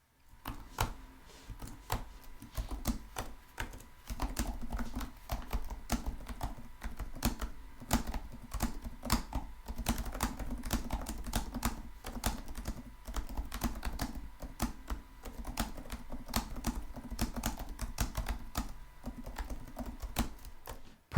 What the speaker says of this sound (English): I'm gonna go ahead and give you an example of what the keyboard sounds like, as well as how much travel you can expect.